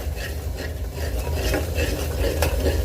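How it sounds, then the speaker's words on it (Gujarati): Masala paste roasts in a pan for a peas and potato dish, a dense continuous sizzle with steady stirring scrapes close up. "જે આપણે પેસ્ટ બનાવીને મૂક્યો હતો મસાલાનો એ નાખી દઈએ અને આને પણ આપણે સરસ શેકાવા દઈએ"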